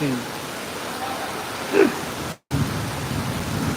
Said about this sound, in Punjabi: ਸ੍ਰੀ ਮੁਕਤਸਰ ਸਾਹਿਬ ਬਹੁਤ ਜ਼ਿਆਦਾ ਮੀਂਹ ਹੈ